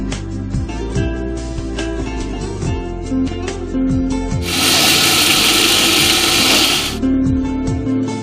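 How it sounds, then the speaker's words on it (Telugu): A mixer grinder grinding spices into a fine powder whirs steadily, then surges into a loud, dense high-pitched grinding roar for a few seconds before dropping back to a lower hum. "ఇప్పుడు దీన్ని ఒక ఫైన్ పౌడర్ లాగా మనం మిక్సీ చేసుకుందాం"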